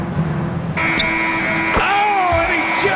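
An end-of-quarter buzzer sounds in the NBA 2K26 basketball video game, a loud sustained electronic tone that cuts in and holds steadily over busy game crowd noise and commentary.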